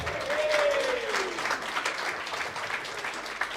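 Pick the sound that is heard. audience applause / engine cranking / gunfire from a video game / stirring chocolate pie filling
audience applause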